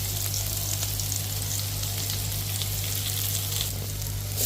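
Sesame oil sizzling in a pan while a crab dish with chicken cubes and chili flakes fries, a steady close hiss and crackle with no talk.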